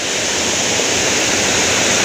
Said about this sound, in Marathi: हा बघा असा खालती किती उंचावरून पडतोय पाणी